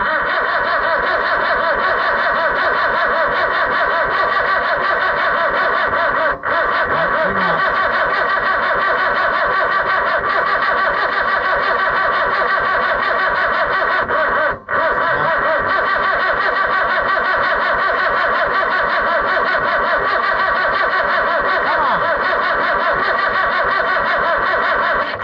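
An Oliver 1365 tractor engine cranks continuously with a loud, steady rhythmic churning for about 25 seconds, never catching, broken only by two brief pauses in the starter.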